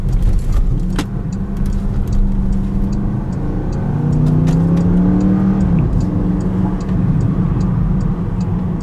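Porsche Panamera Turbo S with a double-clutch gearbox accelerates, its engine note rising and falling through gear changes as a steady low rumble, close and continuous, with light ticking in the background.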